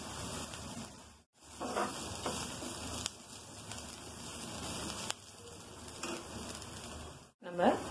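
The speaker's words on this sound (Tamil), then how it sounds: "வெங்காயம் வதக்கிட்டுருக்கு. வதங்கும் போதே நம்ம 1 கை அளவுக்கு தேங்காய் துருவல் சேர்த்துக்கிறோம்." Onions and grated coconut sauté in a pan for adai dosa, giving a soft steady frying hiss with occasional stirring scrapes, broken by two brief gaps of near silence.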